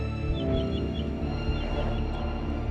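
The Charmed status effect from the video game Shattered Pixel Dungeon gives a soft, shimmering cue with light chirping high tones repeating over a steady, droning musical background at moderate volume.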